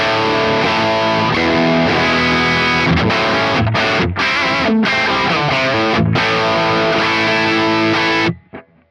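Overdriven electric guitar from an Origin Effects Revival Drive Hot Rod pedal run through an Archetype Nolly cabinet simulation, no amp, playing a loud, dense riff of chords and short stabs with a few brief gaps over about eight seconds before stopping.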